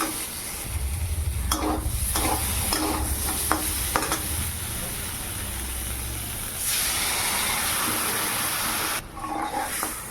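Pointed gourd with poppy seed paste and raw mustard oil cooks in a pan, giving a steady close sizzle and hiss, broken by several scraping stirs of a spatula.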